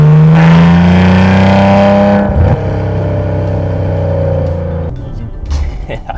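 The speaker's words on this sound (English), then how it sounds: "it's tough to make you smile more than that exhaust note." A 2015 Maserati Ghibli's exhaust roars loud and close as the car accelerates hard, the engine note climbing then dropping at a gear change and settling into a steady rumble.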